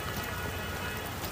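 Steady rain pours in a mountain village in Kashmir, a dense, even hiss of drops on surfaces with no pauses, moderately loud and unbroken.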